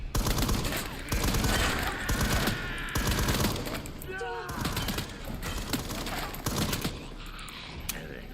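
A gun test-fired in Resident Evil Requiem lets off rapid, loud bursts of shots in quick succession, with mechanical clatter and game sounds between volleys.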